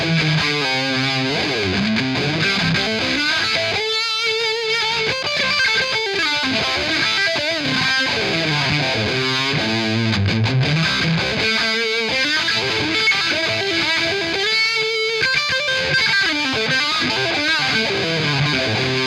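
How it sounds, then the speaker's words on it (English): Electric guitar solo played through a Vox amp with a rotary-style vibe effect, a continuous distorted lead line with swirling modulation, loud and sustained for the whole stretch with no talking. "It's a rotary kind of vibe sound"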